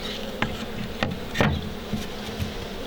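Bees buzz close by around a hive box on a balcony veranda, with a few sharp knocks or taps breaking up the steady droning.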